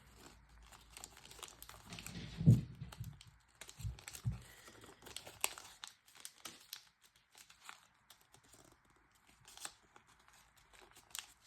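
Paper being folded into a Leonoid origami jet model makes soft, close crinkling and rustling with a few sharper creases, quiet and intermittent.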